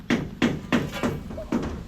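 Hammer striking a cemented house wall under construction, six steady evenly spaced blows, loud and close.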